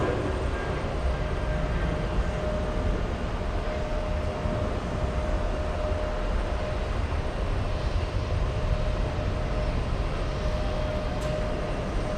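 An Aer Lingus airliner at JFK airport gives off a steady, distant jet roar that holds evenly throughout as a broad rumbling wash, with no voices over it.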